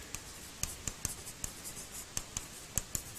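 A chemical name written on a board in a chemistry class, with a quick run of crisp marker taps and short strokes at an uneven rhythm, close and fairly clear.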